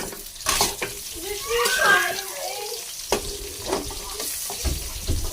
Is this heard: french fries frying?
yes